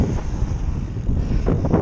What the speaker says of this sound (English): It is windy though, it's about 15-20 mile an hour winds